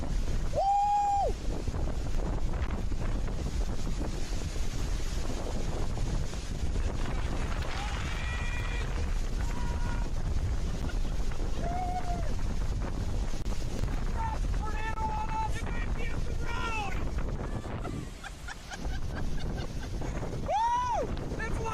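Strong storm wind roars and buffets the microphone continuously with loud low rumble, while people shout and whoop excitedly over it.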